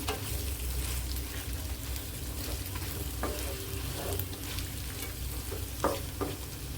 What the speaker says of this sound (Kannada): ಈ ರೀತಿ ಉಳಿದಿರೋ ಮಸಾಲೆನೆಲ್ಲ ಕಂಪ್ಲೀಟಾಗಿ ಸೇರಿಸ್ಕೋತಾ ಇದ್ದೀನಿ ಸೊ ಈ ರೀತಿ ಕಂಪ್ಲೀಟಾಗಿ ಇದನ್ನು ಮಿಕ್ಸ್ ಮಾಡ್ಕೊಳ್ತೀನಿ